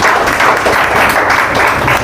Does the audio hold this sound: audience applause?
yes